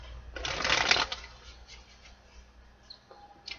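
Tarot cards being shuffled by hand, a close, crisp riffling burst lasting about half a second, followed by faint scattered card clicks and handling noises, with no talking.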